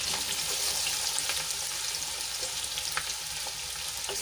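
Chopped green chillies sautéing in hot oil for a sweet potato dish, giving a steady, close sizzle with light crackles and occasional stirring clicks throughout, no talking.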